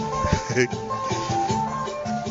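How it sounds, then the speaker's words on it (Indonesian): Loud music playing through a small speaker connected to a phone, from a motorcycle taxi driver near an apartment, with a steady beat and tonal lines, heard from nearby over outdoor street noise. "Dia mutar musik kenceng-kenceng dari speaker yang tersambung ke HP-nya"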